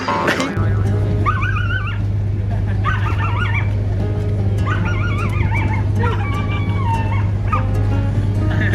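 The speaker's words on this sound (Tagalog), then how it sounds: "Aso naman yan." Steady yelping and whining from a dog in Siquijor, Philippines, in repeated short bursts over a constant low hum, with a few faint background noises.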